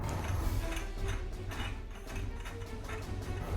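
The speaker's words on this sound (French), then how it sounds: "on a un autre truc qui se dévisse là" A part of a Star Wars lightsaber replica is unscrewed by hand, giving a steady run of close, dry mechanical clicks and ratcheting turns with no talking.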